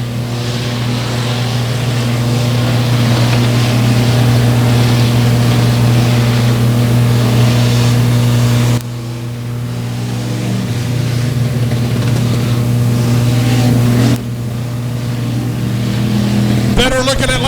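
Race cars circle Buffalo Creek Speedway, a continuous loud engine drone that dips briefly and swells again as cars pass, with a commentator talking over it.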